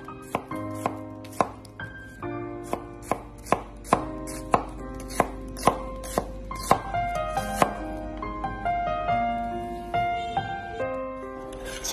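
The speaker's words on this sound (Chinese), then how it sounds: "将洋葱切成丝，" Half an onion being cut into thin strips with a knife on a board, a rapid even run of sharp chopping knocks that later slow into looser, irregular cuts, close and with no voices.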